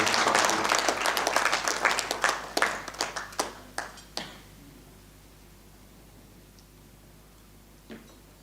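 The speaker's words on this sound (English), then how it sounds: "Please give a round of applause" Attendees at a businessmen's meet with India's External Affairs Minister give a round of applause that starts full, thins into a few scattered last claps, then fades to room quiet with one late clap.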